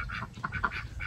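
Ducks quack near their sleeping area at a permaculture farm that also keeps chickens and guinea fowl, a quick cluster of several nasal quacks, fairly close and moderately loud, with no talk.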